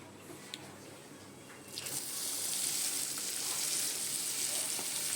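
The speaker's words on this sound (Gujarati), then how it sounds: "હવે નાખીશું આપણું ક્રશ કરેલું લસણ, ડુંગળી અને મરચાંની પેસ્ટ" Crushed garlic, onion and chilli paste hits hot oil with cumin and starts sizzling loudly, a steady frying hiss that swells after a quiet start and keeps going.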